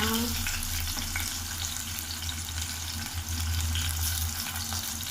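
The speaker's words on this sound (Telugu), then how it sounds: "ఇవన్నీ టమాటో సాఫ్ట్ ఉడికేంత వరకు ఫ్రై చేసుకోవాలి" Chopped tomato fries in oil with curry leaves, coriander and chillies: a loud, steady close sizzle with faint stirring, no one speaking.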